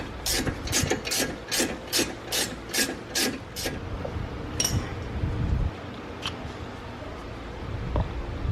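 A ratchet loosens the brake caliper bolts on a 2015 Jaguar XE, giving about a dozen rapid, evenly spaced metallic clicks up close, then quieter scraping and shuffling, no talking.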